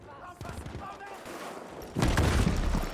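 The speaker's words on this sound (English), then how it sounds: "gunfire going down onto Bravo straight away" Battlefield V match gunfire: scattered shots under commentary, then a loud sustained burst of firing and explosions in the last second, with a voice talking throughout.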